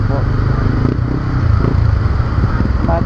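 A motorcycle engine keeps running during a typhoon, a steady rough idle mixed with clatter and wind noise, with a person talking over it.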